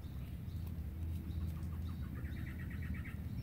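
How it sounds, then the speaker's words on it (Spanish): Small birds chirp outdoors in the countryside of El Salvador during nance fruit picking, their quick, faint tweets repeating in short bursts above a low, steady background hum. "Ay, los pájaros. Los pajaritos."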